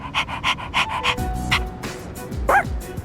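A voice imitates a dog for Koro in Persona 3 Reload, giving a run of quick rhythmic panting breaths, then yips and a short whimpering bark, all close and clear.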